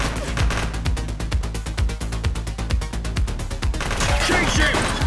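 Suspect opening fire in the police video game The Precinct, with long rapid bursts of automatic gunfire, loud and close, rattling steadily for several seconds before trailing into noisy clatter.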